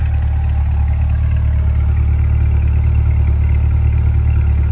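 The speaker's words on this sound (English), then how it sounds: "Nice chug to that exhaust." A 2021 Corvette convertible's exhaust idles with the NPP ports open: a deep, steady rumble with a low throaty chug, close and loud with no voices.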